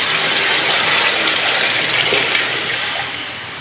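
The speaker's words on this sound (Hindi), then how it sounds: "अभी हम इसमें ऐड कर देंगे वाटर" Water gushes steadily into a cooking pot of rice for white chicken pulao, a continuous close pour that eases slightly toward the end, with no talking.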